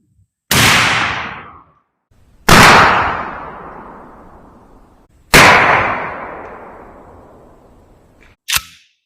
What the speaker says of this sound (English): Shot number 2 with the Critical Defense double aught buckshot.